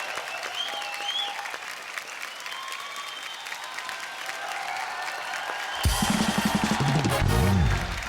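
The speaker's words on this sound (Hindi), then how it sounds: "एक बार जोरदार तालियां" A large studio audience on The Kapil Sharma Show claps steadily throughout, then the applause swells louder near the end as a burst of music and cheering kicks in.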